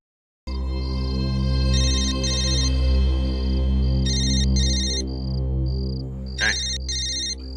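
An electronic phone ringtone plays repeatedly in a looping beeping melody, loud and close, with no talking.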